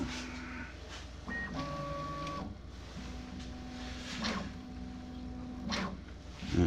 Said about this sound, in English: Motor noise calibration takes about 15 minutes.